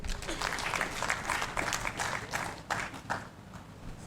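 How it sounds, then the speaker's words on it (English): An audience at an annual gathering claps together, a fairly faint, uneven round of hands with distinct louder claps near the end as it dies down. "So once again, let's clap for them."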